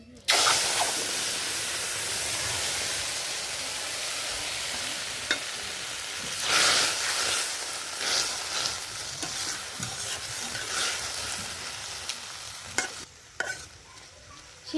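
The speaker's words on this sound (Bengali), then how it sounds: "মাছ ভাজার তেলে শুক্তা ফোড়ন দিয়ে দেব। তেজপাতা, সরিষা আর রাঁধুনি।" Bay leaf, mustard seeds and radhuni spices hiss and crackle in hot fish-frying oil as a tempering for shukto, a steady loud sizzle with scraping stirs and occasional sharp pops close by.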